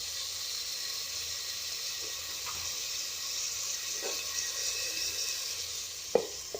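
Broad beans, tomato and potato curry sizzles steadily in a hot pan, a continuous close frying hiss with a few soft stirring knocks and a sharper clink near the end.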